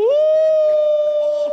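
A person on a Pakistani TV show imitates a wolf howl: one long, loud, steady sustained wail that sweeps up at the start and holds its pitch for about a second and a half, with no other sound.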